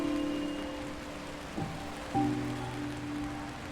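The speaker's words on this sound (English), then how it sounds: "I love the rain." Rain falls steadily in the video game Until Then, a soft continuous patter under sustained musical tones, with a couple of brief louder knocks partway through.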